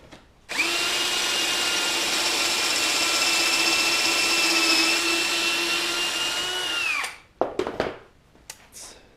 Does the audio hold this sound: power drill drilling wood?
yes